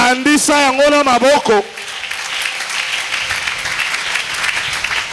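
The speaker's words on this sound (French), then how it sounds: "Appuyez cela par les acclamations." At a French-language church gathering, a voice shouts out briefly, then the congregation breaks into sustained applause and cheering that carries on evenly at moderate volume.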